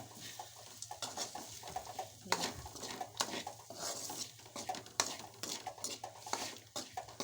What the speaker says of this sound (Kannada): ಈ ಖಾರ ಪುಡಿ ಉಪ್ಪು ಹಾಕ್ಬೇಕ್ರಿ ಹಾಕಿ ಕಲಿಸ್ಬೇಕ್ರಿ